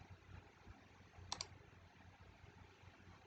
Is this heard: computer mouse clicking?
yes